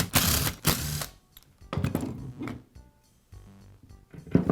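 Porter Cable sander being taken apart: gearbox pulled off the motor in a few close, sharp metallic clicks and scrapes separated by short pauses.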